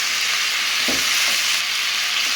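Chicken escalope with onions frying in a hot wok gives a loud, continuous hiss of sizzling oil, with a couple of faint stirring knocks partway through.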